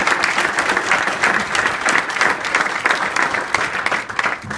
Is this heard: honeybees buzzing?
no